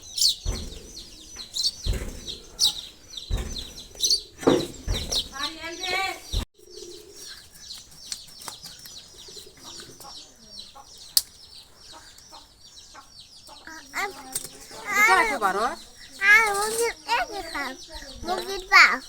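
Village chickens before slaughter, with scattered chirps and clucks, some close and some farther off. They come between sharp knocks and bursts of people talking, including a voice.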